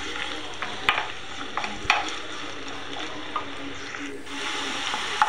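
Okra fries in hot oil in a pan with a steady, close sizzle, broken by occasional clicks and stirring taps.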